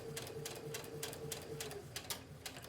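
A sewing machine stitching a godet seam with a quarter-inch seam allowance, giving a quiet, fast, regular ticking and clatter over a faint motor whine that stops partway through.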